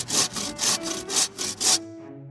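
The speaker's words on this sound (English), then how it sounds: "It's time to start sawing." A hand saw rasps into a big round wooden log in six quick, even back-and-forth strokes, close and crisp, then stops abruptly with a faint ring afterward.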